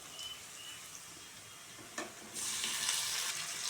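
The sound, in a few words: green chilli and tomato frying with onion in pan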